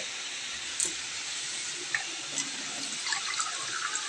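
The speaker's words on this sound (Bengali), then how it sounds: "এর মধ্যে একটুখানি জল দেব সামান্য সেদ্ধ হওয়ার জন্য" A little water pours into a pot of Bengali taro greens (kochu shak) being cooked, a steady hissing splash with a few small clinks, close and continuous.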